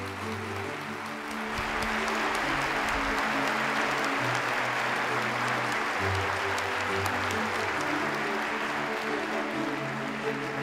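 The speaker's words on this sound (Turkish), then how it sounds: "Ben de sizden kocaman bir alkış rica ediyorum lütfen." A room full of people at an awards ceremony for scientists breaks into sustained applause, loud and steady for about ten seconds after a quiet start.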